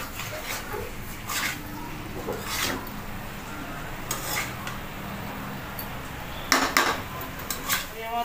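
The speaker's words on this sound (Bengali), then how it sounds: "আলুটা মশলার সাথে কষিয়ে নেব।" Potatoes stirred and fried with spice masala in a pan for a Bengali prawn and yam curry, with intermittent scraping and clinking of a utensil against metal over a low steady background hiss.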